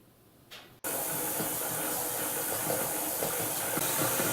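Electric mixer creaming sugar and butter for fruitcake, starting abruptly with a loud steady whirring drone that continues close and unbroken without talk.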